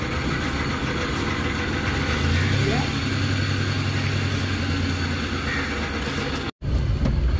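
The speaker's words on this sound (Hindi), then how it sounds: "गाड़ी जी हमने जी घर से निकाल ली है, तो अभी चलते हैं जी सर्विस स्टेशन पे।" A Suzuki Carry van drives off from home toward a service station, its engine a steady low drone with a rising rev midway. Voices talk over it, and the sound cuts out briefly near the end.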